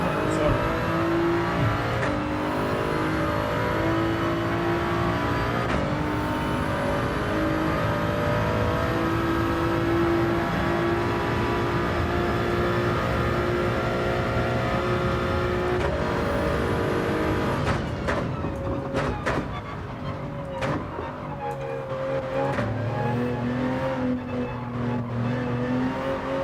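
A race car engine in the Gran Turismo 7 video game revs and pulls through gears with rising and falling whine, loud and continuous, with shift drops and a faint tire squeal, while someone talks over it.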